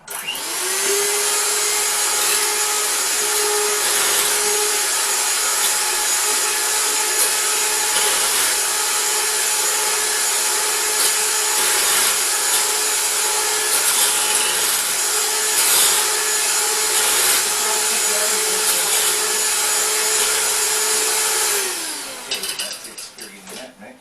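An electric hand mixer whirs steadily through banana bread batter, a loud continuous motor drone with a constant pitch that runs for about twenty seconds before winding down at the end.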